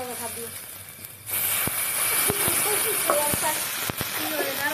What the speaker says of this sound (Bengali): এই দেখুন সরা পিঠে আজকে ভাজছি